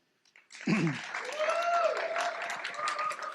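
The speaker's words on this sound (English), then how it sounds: "I'd like to do just a quick round of applause for the groups you're about to hear, as well as our judges, please." An audience bursts into a round of applause at a leadership institute demo day, building quickly to steady clapping with a few vocal cheers mixed in, moderately loud and continuous.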